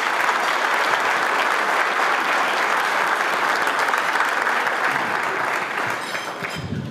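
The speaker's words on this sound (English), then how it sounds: "How about a round of applause for our sponsors?" An audience applauds the sponsors at the 2018 Henry L. Shattuck Public Service Awards Ceremony, sustained dense clapping that stays loud and even before easing slightly near the end.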